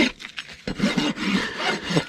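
A rasp files and smooths a mustang's hoof during trimming, making several close, scratchy rubbing strokes in an uneven rhythm with short pauses between them.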